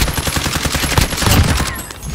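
A dense, continuous volley of automatic gunfire in Call of Duty: Warzone, loud and close, with overlapping rapid shots and sharp cracks filling the whole two seconds.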